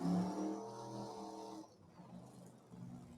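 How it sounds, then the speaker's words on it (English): A blown alcohol drag racing engine revving hard during a burnout at Lebanon Valley, a loud harmonic roar that cuts off abruptly midway, leaving a faint rumble before the engine note returns briefly. "You're going to hear a whole lot different engine tone coming out here now."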